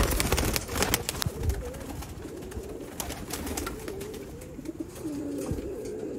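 Sialkoti pigeons coo in soft, repeated rolling calls, close by, with faint scattered clatter and background noise and no talking.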